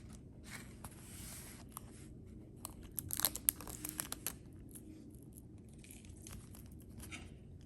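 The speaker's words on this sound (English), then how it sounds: "Remove the plastic from the package. This can be done easily by pulling the plastic strip." Plastic strip pulled off a double edge razor blade package, a close, quiet run of crinkly tearing and crackling with sharper snaps in the middle over a faint steady background.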